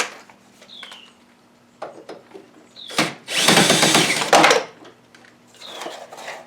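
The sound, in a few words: Craftsman cordless drill driving into wood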